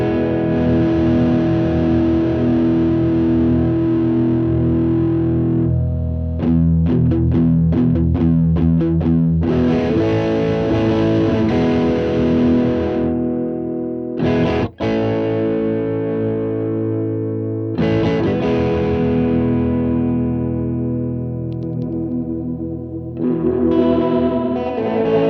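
An electric guitar played through a Fender Hammertone Space Delay pedal with overdrive, distorted chords and single-note phrases ringing out with repeating echoes, alternating bursts of strummed and sustained notes with brief pauses, no talking.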